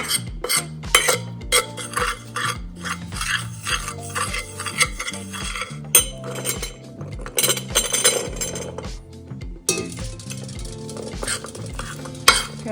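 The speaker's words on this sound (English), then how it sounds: "Let's mix this well and add our chickpeas." Chickpeas being stirred in a bowl with olive oil, salt, paprika and chaat masala, a steady run of clinks and scraping strokes at close range, fairly loud, no talking.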